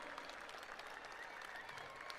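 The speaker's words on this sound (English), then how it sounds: "Please, a round of applause for our beloved principal of many years" Graduation audience at Franklin High School applauding their longtime principal, a steady wash of many hands clapping at moderate distance, dense and continuous throughout with a faint crowd murmur beneath.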